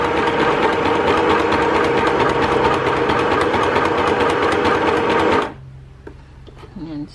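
A seven-year-old Sew Simple sewing machine stitches machine-knitted fabric with a loud, rapid, steady mechanical whir for about five seconds, then stops, leaving a few faint clicks.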